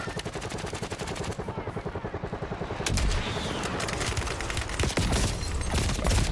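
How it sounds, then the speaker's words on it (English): Rapid automatic gunfire from a sniper tower in Call of Duty: Warzone rattles in fast bursts, loud and close, followed by denser overlapping shots and impacts with no voices. "the sniper tower shooting us?"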